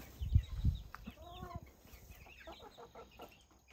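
Rescued battery hens cluck softly and intermittently nearby, with a few louder low thumps at the start and faint voices murmuring.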